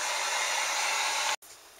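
A handheld drying tool blows on wet spray paint in an art journal, a close, steady high-pitched whirring rush that cuts off abruptly near the end before starting up again more quietly.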